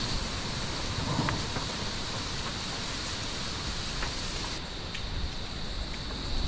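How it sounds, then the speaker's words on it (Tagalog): Heavy rain pouring steadily during a storm, a dense constant hiss with faint distant thunder rumbling underneath. "Mas lalo pang lumakas ang ulan sa oras na ito"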